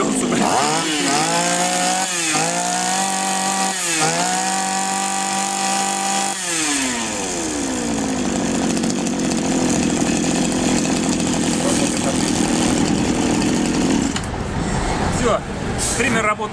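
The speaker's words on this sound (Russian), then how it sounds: "Триммер работает отлично," A petrol grass trimmer, hard to start from cold, runs loud and close with its two-stroke engine revving up and down in several bursts before settling into a steady high drone, with a voice talking over it.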